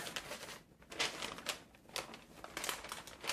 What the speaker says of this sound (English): I like to put some freezer wrap because I don't want to get any of the lye on my blanket.